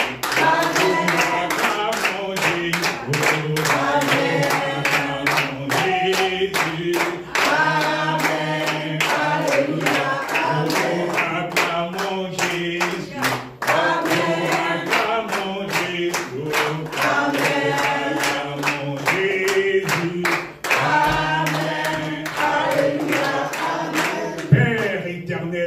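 A worship congregation claps in a steady, rhythmic beat throughout, many hands together, loud and close, with singing or voices carrying along under the clapping.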